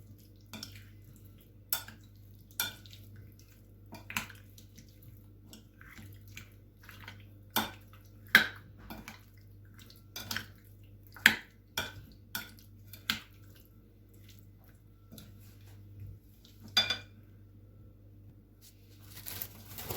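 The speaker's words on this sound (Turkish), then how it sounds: "Şimdi tekrar iyice karıştırıyorum" Minced meat mixture for çöp şiş is stirred in a bowl, producing scattered clicks and knocks of the utensil against the bowl at uneven intervals over a low steady hum, close and fairly quiet.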